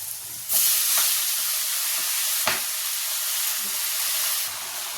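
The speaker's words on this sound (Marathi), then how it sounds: "आता याच्यामध्ये मी भाजी धुवून टाकते।" Washed fenugreek greens drop into a hot pan with browned red chili for methi chicken, setting off a loud, close burst of steam and sizzle that hisses steadily, with a few soft stirring clinks.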